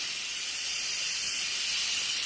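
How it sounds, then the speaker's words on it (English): Steam vents in a steady, loud hiss from the release valve of a Mifanstech electric pressure cooker, a continuous rushing sound that holds level the whole time with no talking over it. "That is manually venting the steam there."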